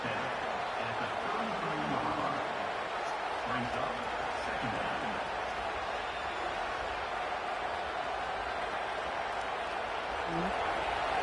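Stadium crowd at a college football game between Oklahoma and Michigan roars in a steady, dense wash of cheering and noise, with a commentator talking over it.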